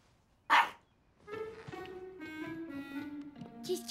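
A dog gives one sharp bark, then after a pause a series of whiny, drawn-out yelps and whimpers follows, nearby and fairly loud.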